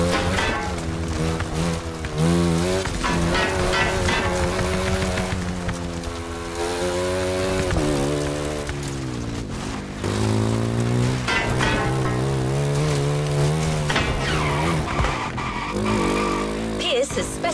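A KTM 450 off-road motorcycle in The Crew Motorfest: a loud, continuous engine roar that rises and falls in pitch with throttle and gear changes, with tire skids mixed in.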